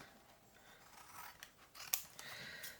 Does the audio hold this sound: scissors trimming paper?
yes